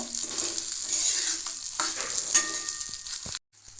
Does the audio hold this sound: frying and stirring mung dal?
yes